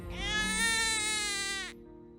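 A baby's cry ringing out from the jungle: one sustained, high, wavering wail lasting over a second and a half, fairly close and clear, then cutting off abruptly.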